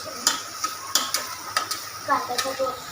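Spiced spinach being stirred in a hot pan: a spoon scrapes and knocks against the metal in irregular strokes over a steady sizzle, close and fairly loud, with no talking.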